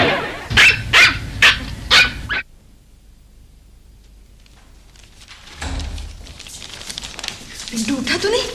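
A dog barks in a quick run of about five loud yaps from a television set, followed by a pause and then a room with background murmur and movement.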